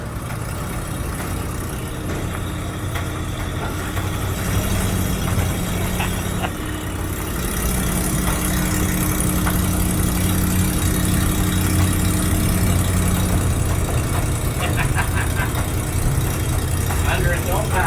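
The swapped-in V8 of a 1936 Divco bread truck idles and runs on its first start in years, a rough, steady mid-to-low engine drone with light knocking that swells slightly partway through. People talk over the running engine.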